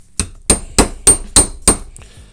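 Six sharp, evenly spaced metallic hammer blows strike a punch wedged in a rimfire gun, loud and close, each ringing briefly before the next, followed by a faint clink.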